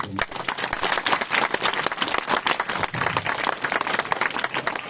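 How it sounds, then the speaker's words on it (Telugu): An audience at a religious gathering bursts into sustained applause, many hands clapping densely and continuously at close range. "మనం అందరం మన కోసం మనమే చప్పట్లు"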